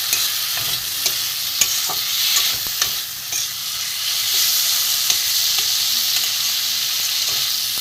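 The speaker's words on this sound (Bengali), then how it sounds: "চাপা দিয়েছিলাম, মশলাটা একটু কষিয়ে নেব।" A spice paste for a Vola fish curry fries in oil with a constant, close, hissing sizzle, broken by scattered light clicks and scrapes as it is stirred, with no voices.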